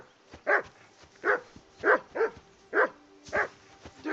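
A dog barks over and over in Kingdom Come: Deliverance II, with about seven sharp, mid-pitched barks at a steady rhythm. It sounds close and loud, and a low, steady hum sits behind it.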